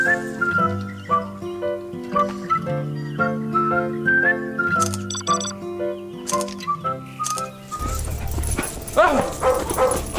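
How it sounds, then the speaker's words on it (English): A dog whimpers and yips repeatedly over melodic background music, then gives louder barks near the end while a person speaks. "What's wrong with this dog? Get away!"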